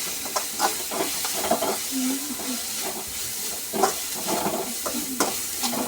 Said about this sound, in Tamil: ரெண்டு டீஸ்பூன் போட்டு மசாலா வதக்கும்